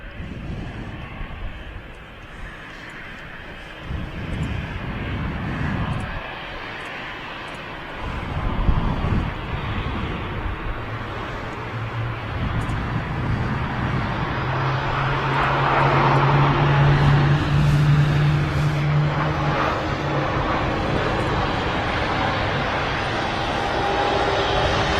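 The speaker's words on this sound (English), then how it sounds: "next in A330 just about to touch down from Orlando" A Virgin Atlantic Airbus A330 arriving from Orlando touches down at Manchester Airport, its jet engines roaring from a distance and growing louder with rising whine, buffeted by wind noise on the microphone.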